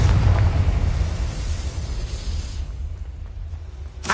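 Confringo fire spell blasting in Hogwarts Legacy: a loud, deep rumbling explosion that fades over several seconds, ending with a sudden sharp burst.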